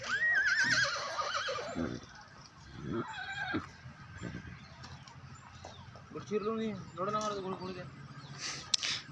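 A horse neighs loudly and shrilly near the start, with further whinnies and clucking chickens later, while people talk nearby outdoors.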